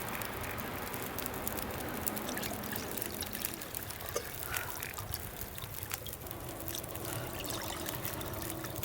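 Water pouring and trickling steadily while coffee is made in The Long Dark, a continuous moderate liquid splash with faint clinks, no voices.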